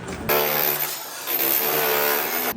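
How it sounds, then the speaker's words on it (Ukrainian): A large, very heavy Hilti rotary hammer runs during demolition work, kicking in abruptly with a loud, harsh buzzing and grinding drone that holds steady and close for over two seconds. "Це демонтажні роботи. Величезний перфоратор."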